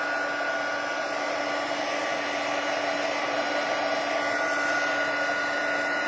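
An embossing heat tool running at full power blows a steady, loud, close whoosh of hot air while melting embossing powder on a handmade card, holding unchanged throughout.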